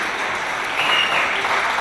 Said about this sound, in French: Alors on peut l'applaudir à tout rompre